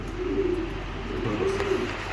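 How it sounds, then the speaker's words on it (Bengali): A pair of racing pigeons cooing close by, a soft low continuous rolling coo with a faint high background hum, no talking. "এই দেখেন কবুতর জোড়া, দেখার মতো এক জোড়া কবুতর, অনেক হেলদি"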